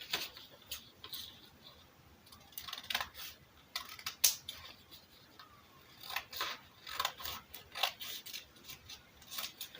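Scissors snip through fabric, cutting out the flare panel for a ball gown, with a run of close, crisp cuts and clicks coming in uneven bursts, no talking.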